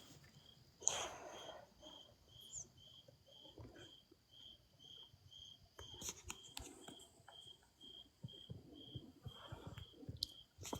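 Crickets chirp outside at night in a steady, pulsing high-pitched trill that runs through the whole stretch, faint and continuous, with occasional soft rustles and small handling noises nearby.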